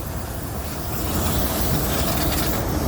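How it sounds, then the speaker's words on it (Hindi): Trailer trucks starting up at a construction site in Mecca, Saudi Arabia: a broad, rumbling engine roar that swells after the first second and then holds steady, heavy and fairly close. "तो ये देखें, ये ट्रेले स्टार्ट हो गए हैं,"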